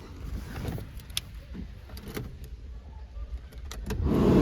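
Power windows of a Volkswagen Golf 5 with a 1.6 petrol engine run inside the cabin, a low motor whir over faint interior rustles that swells louder toward the end.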